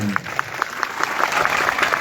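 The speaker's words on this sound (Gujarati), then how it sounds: "એકવાર વિક્રમભાઈ માટે જોરદાર તાળીઓ પાડી દીધી" Audience at a Kshatriya Thakor community gathering in Shankhalpur, Becharaji, claps for Vikrambhai; quick, evenly spaced claps ring out continuously at moderate volume.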